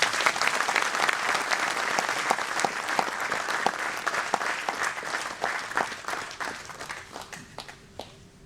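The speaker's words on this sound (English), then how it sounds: "May I have a round of applause as well?" Audience applause at a foundation day gathering, a full room clapping steadily with distinct individual claps standing out, gradually thinning and fading toward the end.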